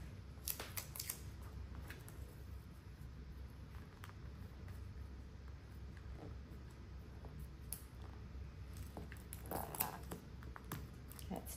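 Adhesive tape is pulled off the roll and pressed onto fabric while assembling an in-the-hoop embroidered bag, with a couple of quick, faint tearing rasps near the start and again near the end over a soft, steady background hum.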